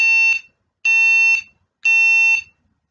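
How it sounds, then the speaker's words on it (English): Three loud electronic beeps from an M5Stack ESP32 board, each about half a second long with a bright, buzzy tone, evenly spaced with short silences between them. "it makes a loud beeping noise."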